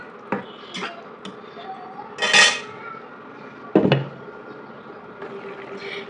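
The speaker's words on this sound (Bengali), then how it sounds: "এখন আমি এটা ঢাকা দিয়ে রাখবো।" A lid set over a cooking pot of vegetable and fish curry produces a few metallic clinks and scrapes, with one rattling clatter near the middle and a louder clank later, close by.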